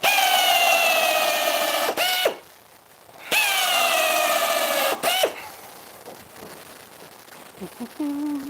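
A power drill whines in two bursts, driving screws into scrap wood while building a bat house, each burst rising in pitch then cutting off, followed by quieter handling clatter and brief talk nearby.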